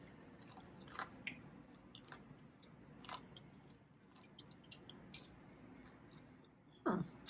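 Someone bites and chews a dense, heavy slice of homemade raisin sourdough bread close to the microphone, with soft wet mastication sounds, a few crunchy bites and a louder mouth noise near the end.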